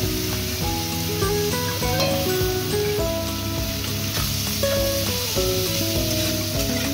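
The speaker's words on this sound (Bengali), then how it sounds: "গাজর আমি একসাথেই সব ভেজে নেব।" Carrots and beans fry in butter with a little oil, giving a steady, even sizzle that runs throughout beneath gentle background music.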